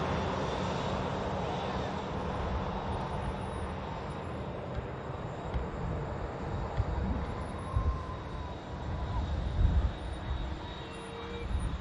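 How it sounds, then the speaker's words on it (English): A distant airliner arrives at Manchester Airport, its engine roar a broad, steady wash that swells slightly toward the end, heard on its own without talk. "Airlines aircraft arrive."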